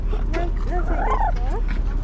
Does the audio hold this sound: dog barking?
yes